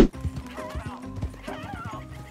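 A horse in Red Dead Redemption 2 whinnies twice in quick succession over hoof clip-clops, the calls fairly close and moderately loud.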